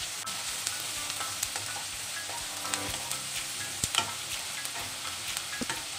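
Sliced onions sizzle and crackle in hot mustard oil with bay leaf and cinnamon, a steady close fry broken by occasional stirring scrapes and clinks, with no talking.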